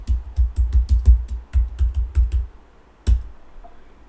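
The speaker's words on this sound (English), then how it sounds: "So I will enter my password." Fingers tapping a password on a Mac computer keyboard, a quick run of about a dozen close, crisp keystrokes, a brief pause, then one final firmer key press.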